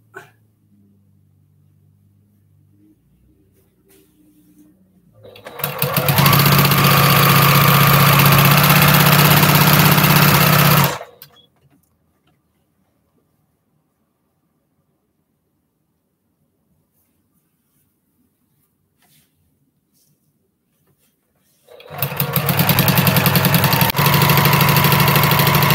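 A home sewing machine fitted with a walking foot stitches a postal stamp quilt top, running steadily in two long motor bursts of about five and four seconds, loud and close, with quiet pauses between.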